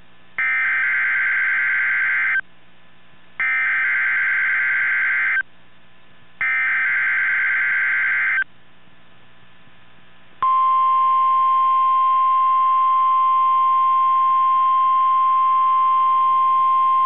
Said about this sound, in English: Audio signals and alarm tones were a test of the NOAA All Hazards Radio Public Warning Alarm System